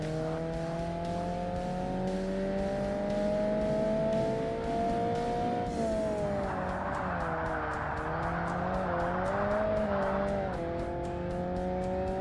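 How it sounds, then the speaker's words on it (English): Racing car in Forza Motorsport on the 2005 Xbox, its engine droning steadily and shifting pitch through a corner as the inside tire spins and squeals on an open differential, loud and continuous with no talk. "It spins the inside tire so much if you just hit the gas while going around a turn in almost any gear"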